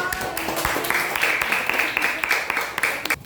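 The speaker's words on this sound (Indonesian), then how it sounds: "Kita kasih aplaus dulu untuk kelompok." Classroom applause for a student group, a dense steady patter of many hands clapping at moderate volume for about three seconds, with a brief murmur of voices mixed in.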